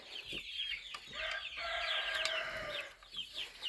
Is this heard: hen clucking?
yes